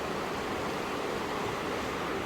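Waterfall near Burney, California, heard from the base as a steady, broadband rush of falling water, continuous and unvarying with no voices.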